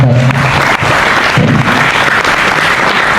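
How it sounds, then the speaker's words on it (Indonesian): Loud, continuous applause from a crowd at an ogoh-ogoh parade meeting, sustained at a fairly even level, with a faint low hum underneath. "Kita kasih apresiasi untuk seluruh aliansi. Beri tepuk tangan"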